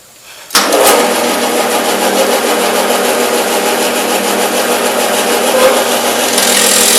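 A power drill starts abruptly and runs continuously, boring a hole at a set depth during a woodworking job on legs, a steady close whirring grind with no talk.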